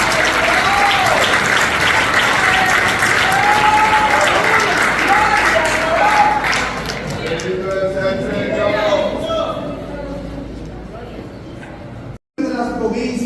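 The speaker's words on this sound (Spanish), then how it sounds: "Den un aplauso al Señor." A church congregation at a Spanish-language sermon on Christianity and politics breaks into loud, dense applause with cheering voices on top, gradually thinning toward the end.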